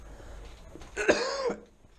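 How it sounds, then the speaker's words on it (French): A single harsh cough, close and distinct, rises out of a quiet room in an abandoned house with peeling wallpaper. "Moi, ça me fait tousser par contre."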